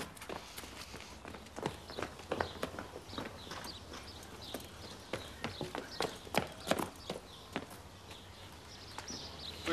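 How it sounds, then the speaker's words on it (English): Hooves clop irregularly on hard ground as a horse walks nearby, the uneven steps sometimes quickening, with faint background noise. "As they approached the yard, Rod and Simon noticed a horse had got loose."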